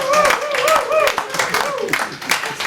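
A workshop group on organizational culture claps their hands together in a short, close burst of uneven claps, with voices talking over them.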